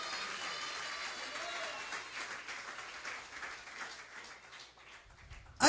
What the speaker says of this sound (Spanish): Denle esa ofrenda de palmas al Señor.